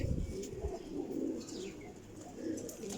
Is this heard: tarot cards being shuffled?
no